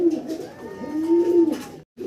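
A pigeon coos close by in a low, rolling, throaty call that swells and wavers for about two seconds before cutting off briefly.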